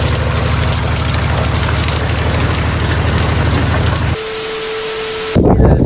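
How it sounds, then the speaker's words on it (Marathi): Heavy morning rain pours down steadily in a village area near Murbad, a loud, dense and continuous roar of rain that cuts off abruptly near the end, with no distinct thunder claps standing out. "बघा बघा कसला पाऊस पडतोय सकाळी"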